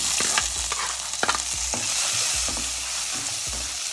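Tomatoes land in a pan of frying curry leaves for a mushroom curry, with a steady, bright sizzle and occasional spoon scrapes and knocks against the pan close by.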